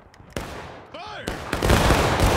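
A musket volley roars out on command during a War of Rights game battle: sharp, loud overlapping gunshot cracks in several bursts, with a shouted order and noisy crackling gunfire after it.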